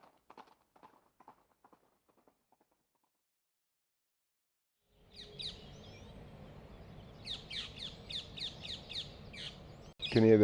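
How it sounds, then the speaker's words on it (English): Parrots in park trees in Puerto de la Cruz, Tenerife: a burst of repeated shrill squawks from overhead over a low outdoor rumble, preceded by faint scattered sounds and a quiet stretch. "Can you hear the parrots up there?"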